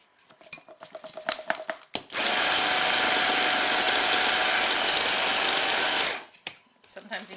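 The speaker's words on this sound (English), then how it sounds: "This little handheld food processor is really nice for videoing, but it's not quite as strong as my big, huge food processor, so sometimes it struggles a little bit." Handheld food processor whirring through Oreos and cream cheese, a loud, even motor drone held for about four seconds, with brief spoken sounds before and after.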